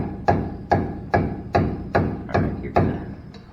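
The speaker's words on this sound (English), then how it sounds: "Dead blow hammer is probably the right." Seven evenly spaced, solid thuds from a dead blow hammer striking metal during ball joint, tie rod end and wheel bearing work, each dull and heavy with a short decay, close up and alone.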